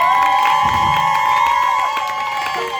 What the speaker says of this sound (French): Acclamez pour le Seigneur Jésus.